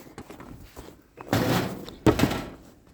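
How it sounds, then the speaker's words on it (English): A barn door on a snowy winter homestead is opened, giving two broad scraping, thudding bursts after some light knocks and footsteps, close and loud. "I just open up the door."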